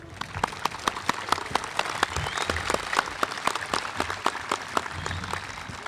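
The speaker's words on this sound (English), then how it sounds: "Have a round of applause for our color guard." Audience applause for a color guard at a Memorial Day observance at the Vietnam Veterans Memorial, outdoors, a sparse crowd clapping steadily with distinct individual claps for several seconds.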